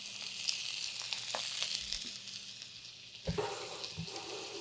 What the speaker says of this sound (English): All right, shrimp are in.